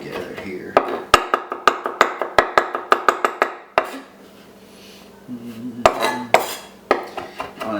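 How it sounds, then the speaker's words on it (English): Chopped garlic and ginger being worked in a pan with a utensil, a close series of sharp, rhythmic metallic taps and knocks, a quiet pause, then more clattering strikes. "we will actually kind of mix this garlic and ginger together here"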